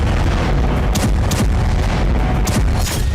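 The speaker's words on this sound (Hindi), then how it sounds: "एक के बाद एक कई मिसाइल धमाकों से करमान शहर दहल गया।" Missile explosions strike the city of Kerman, a loud, continuous roar of heavy rumbling booms with several sharper blasts standing out, dense and distant-sounding with no break.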